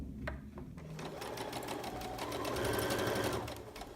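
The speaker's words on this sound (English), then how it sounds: "So I'm just going to stitch even with the presser foot" A Babylock sewing machine runs a straight line of stitching on a gathering sample, its needle chattering in a fast steady rhythm that swells slightly louder toward the end, close and alone.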